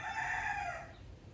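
A rooster crows once near a home, a loud drawn-out call that falls off after about a second, with faint background noise and no talking.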